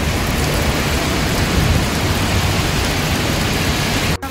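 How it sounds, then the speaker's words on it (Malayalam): Heavy rain pours down in Abu Dhabi as a dense, steady, loud roar with a faint low rumble beneath, no voices, ending in an abrupt cutoff. "ഭയങ്കര മഴ."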